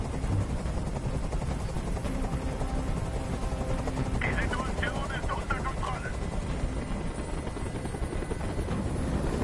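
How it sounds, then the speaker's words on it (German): Helicopter hovering in the video game Detroit: Become Human, a steady, loud rotor drone that persists throughout, mixed with other game noise and brief higher tones in the middle. "Dieser Helikopter soll verschwinden!"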